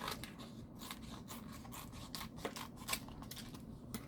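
Scissors trim sublimation paper for a tumbler wrap in quick, close snips, a rapid run of soft crisp cuts at a steady rhythm, faint and without any talk.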